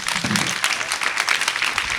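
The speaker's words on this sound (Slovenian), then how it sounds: "en aplavz, prosim" A small audience claps briskly for a couple of seconds, a lively scatter of individual handclaps blending into brief applause.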